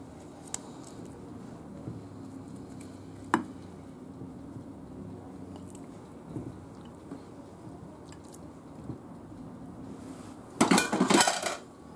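Potatoes and pancetta go into a baking dish for Valencian oven-baked rice, giving soft clinks and knocks of food and utensils against the dish, then a brief louder clatter of dishware near the end.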